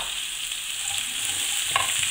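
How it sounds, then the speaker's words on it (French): Wild asparagus tips fry gently in oil in a pan over very low heat, giving a constant close hiss with a brief tap near the end. "j'ai mis mes 2 cuillères à soupe d'huile à chauffer dans une poêle vraiment à feu doux. Je vais mettre mes pointes d'asperges."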